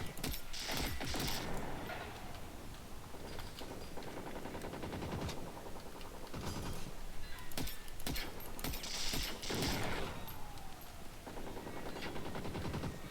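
Rapid gunfire in a base-defense video game, with bursts of automatic shots and sharp single cracks layered over a dense, continuous background of combat noise.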